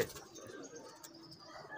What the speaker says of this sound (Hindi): अब ये सारे कबूतर आपकी स्क्रीन पे हैं